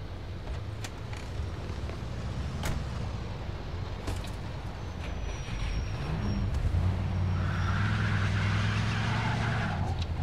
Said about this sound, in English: Yay, I'm finally in a vehicle.